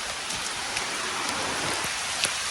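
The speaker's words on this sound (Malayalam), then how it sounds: "കറക്റ്റ് ടൈമില് തുടങ്ങാൻ നേരത്താണ് പെരുമഴ." Heavy downpour pouring steadily as a dense, loud, continuous hiss, with occasional louder drop impacts standing out; no talking.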